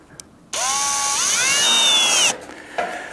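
A power drill drives a screw while a Camp Chef Alpine Heavy Duty cylinder stove is assembled, a loud whirring burst of about two seconds whose pitch climbs as the motor speeds up, then stops abruptly.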